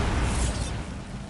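Bombarda, an explosive spell in Hogwarts Legacy, bursts with a broad, rushing blast that swells briefly and then fades into a rumbling tail, heard alone.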